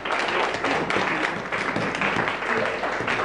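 A church congregation claps, a dense and steady round of applause that carries evenly throughout, loud and close, with no pause or voice rising above it.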